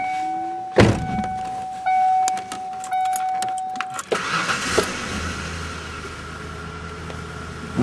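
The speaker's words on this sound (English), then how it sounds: "So now when I turn the truck on" A 1994 Ford Ranger pickup with a 4.0 V6 cranks and fires up after a few key and chime clicks, then settles into a steady, close idle rumble that carries on alone to the end.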